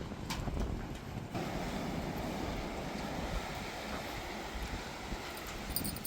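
Strong storm wind roars steadily over the open sea, with surf and wind buffeting the microphone in a continuous loud rush.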